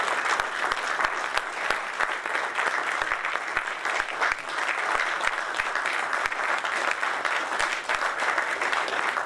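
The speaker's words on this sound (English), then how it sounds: "Can we have a round of applause," Audience applause at a stock exchange listing ceremony for Sai Life Sciences Limited, a steady, dense clapping that fills the whole stretch at an even level with no voices over it.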